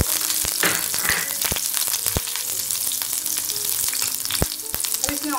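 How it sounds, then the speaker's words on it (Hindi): Curry leaves and green chillies frying in hot oil give a close, steady sizzle, broken by crackling pops throughout. "ऑयल गर्म हो जाए फिर इसमें करी लीव्स डाल देंगे। ग्रीन चिली डाल देंगे।"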